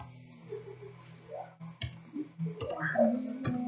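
Quiet, scattered keystrokes on a computer keyboard as a command is typed into a Debian server console, irregular light clicks with short pauses between them.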